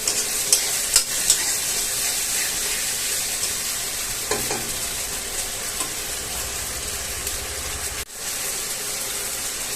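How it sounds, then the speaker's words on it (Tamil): Ginger garlic paste and onions sauté in oil in a pan, a steady soft sizzle under occasional scraping stirs and a few light clinks of the spoon. "இதோட தண்ணி நல்லா ட்ரை ஆக வரைக்கும் நம்ம வதக்கிக்கலாம்"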